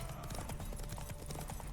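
Horse hooves clip-clop in The Witcher 3, a quick, even run of hoofbeats, as if from a galloping horse, heard over game background sound with no talk.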